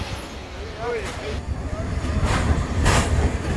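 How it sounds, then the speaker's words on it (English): A Cuban local train of simple Cuban-built cars, hauled by a 1954 EMD G8 diesel locomotive, rumbles along with a low rolling drone, squeaks, and periodic rattling bursts of cars and track, with a voice talking over it. "The cars are Cuban-built, simple local train cars, and the locomotive is a G8 from"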